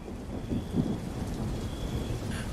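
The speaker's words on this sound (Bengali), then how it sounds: "আকাশে কালো মেঘের গর্জনে বিকট শব্দে বিদ্যুৎ চমকালো, আর ঝুমঝুম করে নেমে এলো মুষলধারে বৃষ্টি।" Thunder rolls with a low rumble over heavy, pouring rain on a stormy night, a brief dense wash of downpour without any voices.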